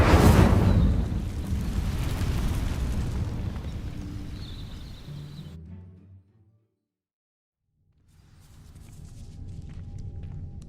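A fire spell ignites a tangle of dry vines in the game Hogwarts Legacy, a loud roaring, crackling burst that swells at once and burns steadily for several seconds, then cuts to silence before a quieter ambient bed returns.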